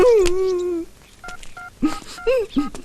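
A mobile phone keypad is pressed twice, giving two short, clear dialing beeps. A loud wailing voice comes before them and more vocal moans and calls follow.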